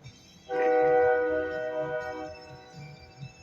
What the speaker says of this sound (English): Yeah, it's the train, the railroad.